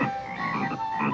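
A cartoon frog gives one continuous croak during a Smurfs episode in a magic lesson about turning frogs into princes, the croaking sound loud and close for about a second.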